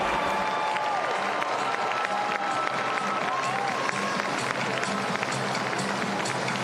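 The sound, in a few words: arena crowd applauding gymnasts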